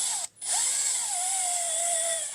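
A power drill spins at high speed, match-drilling through one layer of plastic on a 2024 Polaris RZR XP 1000 fender, with a steady loud whine broken by a brief pause near the start.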